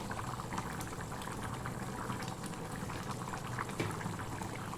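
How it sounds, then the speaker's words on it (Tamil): A pot of karuvadu kuzhambu, a dried fish curry, boils steadily at moderate volume, with a continuous bubbling hiss and occasional small pops. "இப்போ குழம்பு நல்லா கொதிச்சிடுச்சு."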